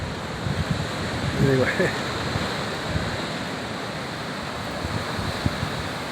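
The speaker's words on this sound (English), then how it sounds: "Got the waves rolling in." Ocean waves roll in at the horseshoe, a steady wash of surf mixed with wind noise on the microphone. A person speaks briefly near the start.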